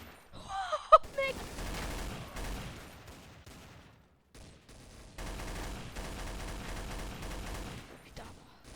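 Sustained machine gun fire in the video game Counter-Strike, long rattling bursts broken by a short pause, with game effects mixed in.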